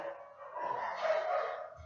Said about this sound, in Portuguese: Cachorro latindo, gente.